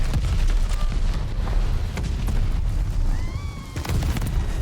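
Explosions and gunfire from the shooter game Call of Duty Vanguard, a dense run of loud booms and bursts throughout, with a few whistling tones near the end.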